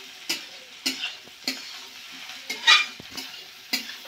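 Potatoes and cauliflower fry in a pan and are stirred. Periodic scraping strokes of the spatula come roughly every half second over a soft background sizzle.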